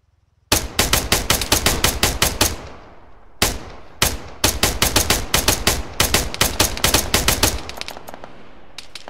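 Enemy gunfire in the ARMA video game rings out as loud, close bursts of rapid automatic shots with brief pauses between volleys, followed by a decaying echo.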